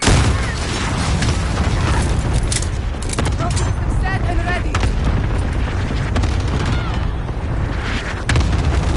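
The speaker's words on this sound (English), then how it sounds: "Allied cluster strike incoming." Allied cluster strike explosions during a Hardpoint match in a console shooter: repeated heavy booms and crackling blasts over continuous gunfire, loud and near, with voices talking over it.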